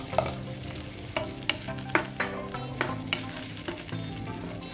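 Jaggery simmers and is stirred in a pan for sago payasam, with a soft steady sizzle and repeated sharp scrapes and clinks of the spoon against the pan at an uneven rhythm.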